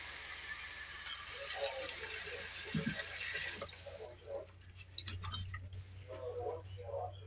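Water from a modded cup: a steady hiss of running water for about three seconds, then scattered drips and trickles with faint background sounds.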